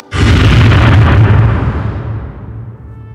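A simulated blast of a 12-inch coastal artillery gun at a historic fort: one loud, deep boom with a sharp onset that rolls on and slowly decays over about three seconds, heard alone without talk.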